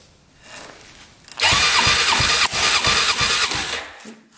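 A quad ATV engine is cranked and catches with the throttle held open, roaring loudly with a rapid pulsing beat for about two seconds before dropping away.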